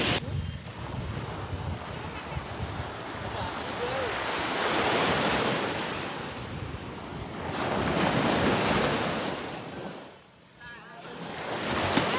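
Large Bay of Bengal waves break on Puri beach in a loud, continuous roar that swells and recedes in slow surges, with heavy wind buffeting the microphone and a short lull near the end.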